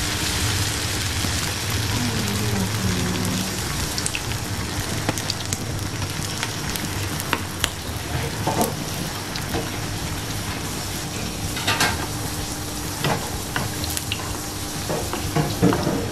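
Crumb-coated chicken pieces drop into hot virgin coconut oil and fry with a steady, dense crackle and hiss, loud and close, with scattered sharper pops throughout.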